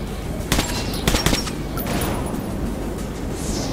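Bursts of gunfire in Metro 2033 Redux, a few sharp shots around the first half followed by a rumbling, noisy game ambience, moderately loud with no talk.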